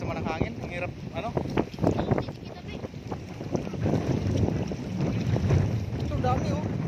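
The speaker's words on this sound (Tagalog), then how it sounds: "Lakas naman ang hangin." Strong wind roars and buffets the microphone in a steady low rumble near open water, with people talking intermittently over it.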